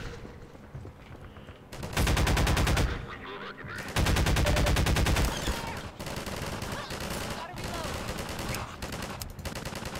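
Loud automatic gunfire in Half-Life 2, long dense bursts of rapid shots with a couple of heavier blasts, continuous and close throughout.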